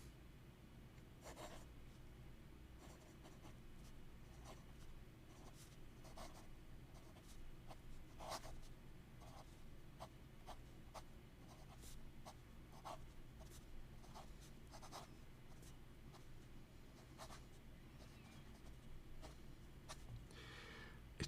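Fountain pen nib scratching softly across paper in a quiet room, a steady run of faint, fine strokes with small ticks as the tip lifts and lands.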